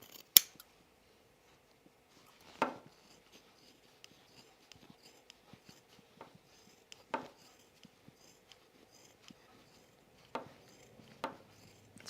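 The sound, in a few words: scissors clipping fabric neckline and trimming corner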